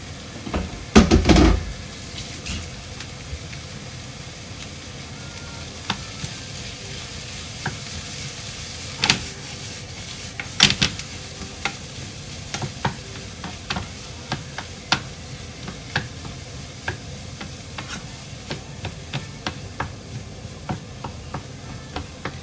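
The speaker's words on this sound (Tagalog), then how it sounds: "At ilagay na po natin itong ating bawang." Garlic is sautéed in a pan for hamburger patties. A brief clatter at the start gives way to a soft, steady sizzle dotted with light taps and scrapes from a utensil.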